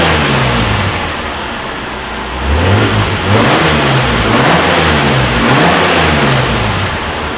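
A Reliant Scimitar sports car engine with a stainless exhaust idles with a deep burble, then revs up repeatedly in rising, raspy bursts from the exhaust, close and loud.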